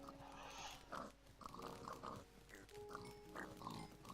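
Pigs on a farm in a video game, with a series of short grunts and snorts repeating at an irregular rhythm over faint background music, fairly quiet and with no speech.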